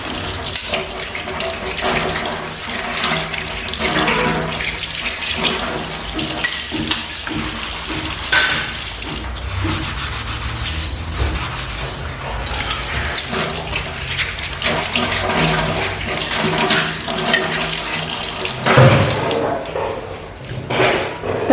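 Tap water runs steadily into a sink while gas stove parts are washed, a loud continuous splashing rush with occasional clatter and no talk.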